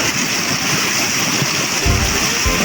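Water pours steadily from a spring spout called the bica de Mariana, a continuous close splashing hiss with a few heavier splashes near the end.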